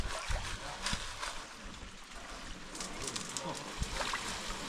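Gravel shaken and rinsed with water in a gold pan, giving continuous close sloshing and splashing with repeated small knocks of stones.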